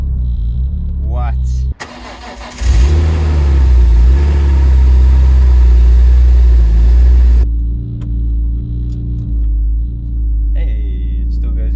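An old BMW M3 fires up after sitting through winter, cranking then catching into a loud, rough rumble with a brief rev before settling to a lower idle; someone speaks over the engine.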